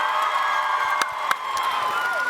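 A panel audience at TwitchCon Amsterdam 2022 cheers and whoops loudly as a crowd, with a couple of sharp claps standing out from the sustained roar.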